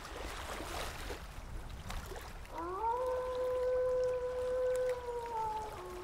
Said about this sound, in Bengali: নদীর কাছে গিয়ে নৌকা নিয়ে জলে নেমে পড়ে সে।